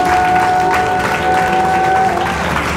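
A church congregation claps and cheers together in a dense, loud, continuous wave of applause lasting a few seconds, with a steady tone ringing faintly underneath.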